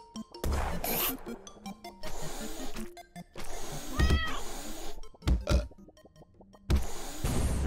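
A cat meows a few times in a video game, its cries cutting through busy game music and sound effects.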